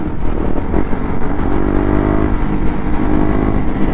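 A modified KTM Duke 250 motorcycle engine runs loud and close, a continuous throaty revving rumble with slight rises in pitch, with no talking over it.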